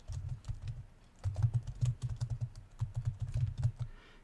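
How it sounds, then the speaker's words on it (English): Rapid clacking keystrokes on a computer keyboard, close and fairly quiet, in short uneven bursts with brief pauses between words. "Type in touchpad settings."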